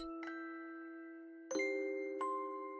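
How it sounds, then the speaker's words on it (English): A doorbell chimes three times, clear ringing tones struck at uneven intervals and left to hang and decay between strikes, fairly close with no voices. "May nag-doorbell?"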